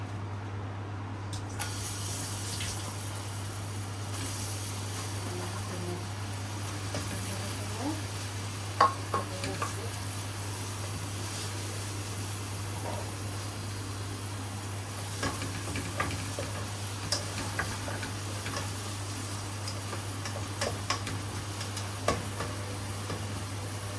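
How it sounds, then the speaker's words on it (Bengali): Chopped onion frying in a small amount of hot oil for a bottle gourd and prawn curry, a steady soft sizzle running throughout with occasional light stirring clicks and scrapes. "তেলটাও গরম হয়ে গিয়েছে এখন দিয়ে দিব এখানে পেঁয়াজ কুচি"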